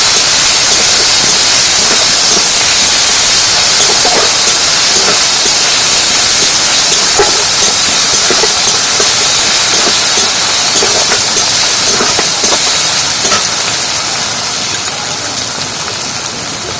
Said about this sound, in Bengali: একটু তেলের মধ্যে দিয়ে দিতে ভালোভাবে ভেজে নেবো লাল লাল করে